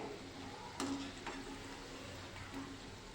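Manchurian balls deep-frying in oil, a soft, steady sizzle with a couple of brief clinks and scrapes as they are turned in the pan.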